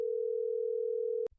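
A telephone dial tone heard while calling the police, a single steady unbroken tone that cuts off abruptly after about a second, followed by a faint click and silence.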